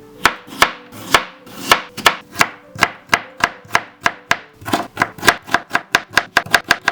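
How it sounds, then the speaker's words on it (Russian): Rapid, crisp knife strokes slicing potatoes into thin slices on a cutting board, about twenty-five chops in a steady rhythm that quickens toward the end, close and clear. "Как можно тонко нарезаем слайсами и потом будем нарезать брусочками, очень тоненько."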